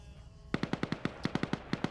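Rapid machine gun bursts in a video game battle against an enemy company HQ, sharp loud shots after a brief quiet start, cracking out in a fast, slightly uneven rhythm.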